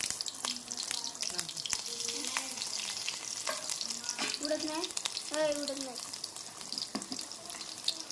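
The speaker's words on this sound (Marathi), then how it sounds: "दुसऱ्या एका छोट्या पातेल्यामध्ये थोडं तूप, त्याच्यामध्ये हिरवी मिरची आणि आल्याचे काप बारीक लांब काप करून त्यामध्ये लाल तिखट थोडं घालून त्याची फोडणी करायची" Ghee tempering with green chili, ginger slices and red chili powder sizzling in a small pot, a steady close frying hiss with stirring clinks, while a person talks over it.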